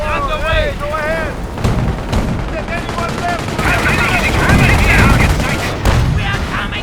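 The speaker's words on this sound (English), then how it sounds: "We are coming under fire!" Gunfire in the Company of Heroes game during a World War II Market Garden battle on Highway 69: rapid machine-gun bursts and heavier artillery-like blasts crackle continuously, close and loud, with shouted voices and whistling tones mixed in.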